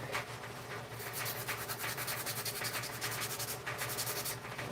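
Coarse 50-grit sandpaper is rubbed back and forth in a steady, continuous rasping rhythm, close up and fairly loud, with no talking.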